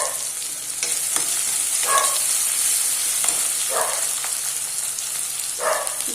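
Ginger-garlic paste and panch phoron spices frying in hot oil for a taro-leaf curry, giving a steady close sizzle with a few brief stirring scrapes and crackles on top.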